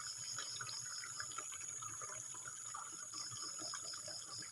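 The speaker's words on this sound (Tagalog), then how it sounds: "Medyo mabilis naman yung buhos ng tubig" Water pours steadily into a container out in a rural field, a fairly fast, continuous gushing splash heard close up against a faint background hiss.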